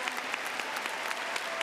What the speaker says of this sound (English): let's give our class of 2026 a well-deserved round of applause